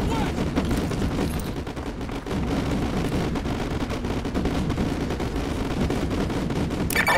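An artillery barrage in Call of Duty: Modern Warfare 2 Campaign Remastered, a laser-designated strike on vehicles, heard as steady, dense gunfire and booming impacts that roll on continuously with only a slight dip midway.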